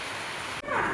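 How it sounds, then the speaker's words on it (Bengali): Heavy rain pours down outside on a rooftop at night, a steady dense hiss that swells louder after a brief dip, with no voices. "প্রচুর বৃষ্টি নেমে পড়েছে, তোমরা শুনতে পাচ্ছ আওয়াজ হয়তো।"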